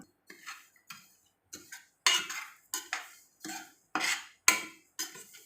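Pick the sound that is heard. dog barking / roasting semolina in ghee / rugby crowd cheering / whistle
roasting semolina in ghee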